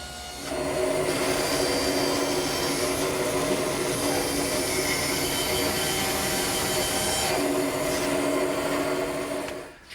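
A table saw cuts notches through four pieces of wood ganged together, making a loud, steady whining rasp that holds for about nine seconds before spinning down.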